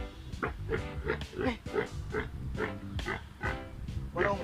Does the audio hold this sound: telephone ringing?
no